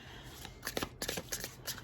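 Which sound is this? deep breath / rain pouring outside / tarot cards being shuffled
tarot cards being shuffled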